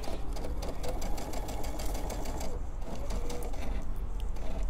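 A sewing machine stitches minky fabric for a stuffed barnyard-animal pillow, running in a steady, continuous mechanical whir with rapid needle clatter throughout, fairly close and without talk.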